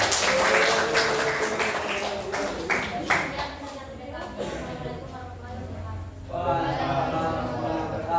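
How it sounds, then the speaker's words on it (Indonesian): A classroom of students applauds group 2 with a burst of close, uneven clapping that fades over a few seconds. Voices talk throughout. "Beri tepuk tangan kepada kelompok 2."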